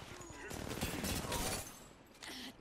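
Enemy gunfire in a battle royale video game, with rapid overlapping bursts of automatic shots at mid distance, rising and fading in waves, with a game voice heard over the shooting.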